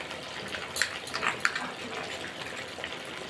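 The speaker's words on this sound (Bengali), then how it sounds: "পোস্তর বাটিটা দিয়ে একটু জল দিয়ে দিলাম" A small pour of water into a bowl of poppy-seed and green chilli paste for a Bengali bean dish, heard as a soft splashing trickle with a few brief faint spatters, close by and quiet.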